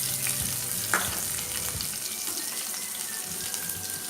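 Small shallots and curry leaves sautéing in hot oil with popped mustard seeds for banana flower kootu kulambu, a steady close sizzle with occasional stirring scrapes and no talk.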